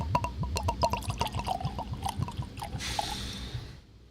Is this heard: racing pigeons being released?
no